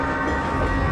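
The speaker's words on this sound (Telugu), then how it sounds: "ట్రైన్ స్టేషన్ నుంచి బయలుదేరింది" Train pulling out of a station, a steady loud rumble of rail cars filling the short stretch without breaks or voices.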